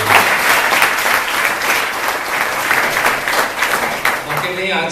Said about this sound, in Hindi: एक बार जोरदार तालियां सभी लोग